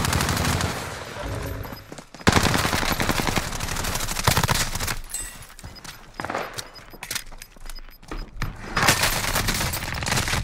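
Call of Duty gunfire on Rebirth Island comes as loud bursts of rapid automatic shots with short pauses between them, mixed with footsteps and game noise.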